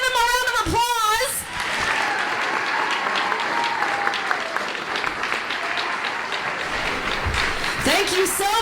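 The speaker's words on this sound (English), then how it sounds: "Give him a round of applause." Audience at a charity auction gala breaking into sustained applause, dense clapping and some cheering filling several seconds, with a voice speaking briefly at the start and end.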